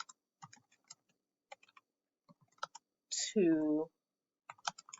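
Typing on a computer keyboard: scattered quick key clicks in short bursts, close and fairly quiet, with a brief spoken word partway through.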